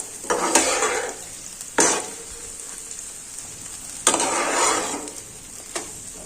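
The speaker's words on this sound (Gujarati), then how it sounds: "અને સમારેલું કેપ્સિકમ લીધું છે તે એડ કરીશું। તમે કેપ્સિકમની જગ્યાએ લીલા મરચાં પણ એડ કરી શકો છો। સાતળી લેશું।" Chopped capsicum sizzles and fries in a pan for semolina appam while a spoon stirs it, making clear scraping strokes against the pan over a steady frying hiss, with no talking.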